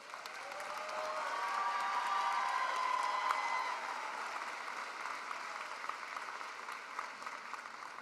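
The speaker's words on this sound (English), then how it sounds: "Let's have a big round of applause for those graduates." Commencement audience at a 2019 fall university graduation applauding graduates, a dense, sustained wash of clapping across a large hall, swelling then easing slightly, with faint cheers.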